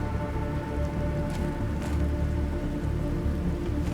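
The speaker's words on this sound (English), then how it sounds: "Look at this, it's raining!" Steady rain in the video game The Planet Crafter patters on a surface, a dense continuous hiss with a low rumbling bed underneath, no voices.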